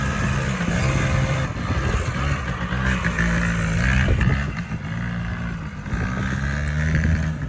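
A Polaris Scrambler 90 two-stroke ATV, freshly repaired from non-running, revs hard and close, its buzzy engine note rising and dipping continuously through the whole stretch without pause.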